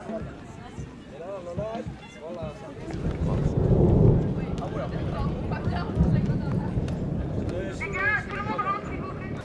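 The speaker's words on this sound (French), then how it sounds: "Il y a un très très gros orage" A very heavy thunderstorm at an outdoor match venue, with loud deep thunder rumbling in two swells amid rain and wind, while people talk over it.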